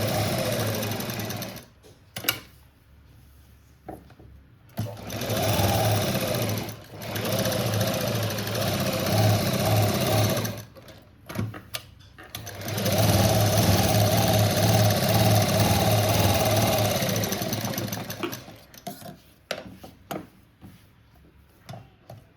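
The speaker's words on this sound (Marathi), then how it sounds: "त्यानंतर आपण हे अस्तर चौबाजूने शिवून घेऊ" Sewing machine runs in several bursts stitching the lining of a boat-neck blouse on all four sides, its rapid mechanical whir starting and stopping between short pauses, with no talking.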